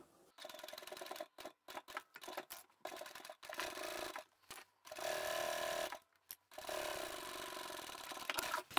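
A sewing machine stitches the side seams of a quilted bag in bursts of rapid whirring, stopping and starting several times with short silent pauses between runs.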